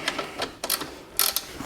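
A wrench ratchets while the upper and lower suspension links are tightened on a BMW 330d E92. Several short, close clicking bursts come in uneven groups, with brief pauses between them and no talking.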